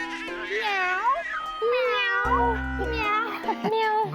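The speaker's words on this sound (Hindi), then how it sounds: "अच्छा, बिल्ली।" A cat meows repeatedly indoors at home, several drawn-out, rising and falling cries in quick succession, fairly close, with a brief low rumbling sound partway through.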